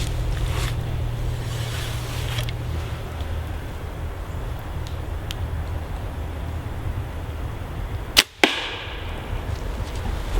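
A Wasp Jak-Knife 2-inch cutting broadhead arrow strikes a target through two layers with one sharp, loud impact, after steady low outdoor background noise.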